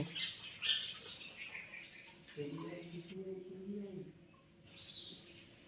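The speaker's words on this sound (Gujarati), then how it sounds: "આ અહીંયા ચણ ચણે છે ચકલીઓ, જો" House sparrows peck grain at home in the morning and give short, bright chirps in small bursts at the start and near the end. A low voice talks in between.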